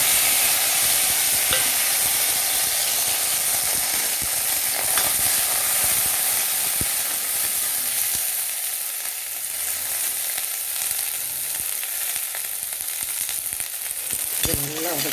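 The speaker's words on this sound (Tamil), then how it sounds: "இதெல்லாம் கொட்டி வதக்கிடலாம்" Ingredients for drumstick-leaf chutney sauté in oil in an iron pan, a loud, continuous close sizzle with constant stirring scrapes and a brief clank near the end, no speech.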